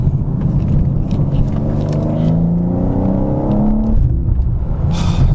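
BMW M4 Competition G82 in Frozen White accelerating hard from inside the cabin, engine note climbing steadily then breaking at a gear shift near four seconds, loud and close with no talking.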